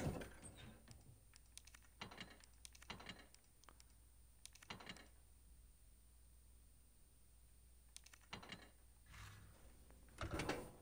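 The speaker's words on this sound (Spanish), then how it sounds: "llegamos hasta la máquina de escribir" Typewriter from the Resident Evil 2 video game, used for saving the game. It gives short bursts of quiet mechanical clacks in separated clusters, spaced over a faint steady background hum.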